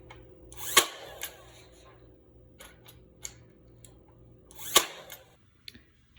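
Battery-powered stapler driving staples into half-inch hardware cloth wire on a chicken and rabbit tractor frame, two sharp loud snaps several seconds apart with fainter clicks between, over a low background hum.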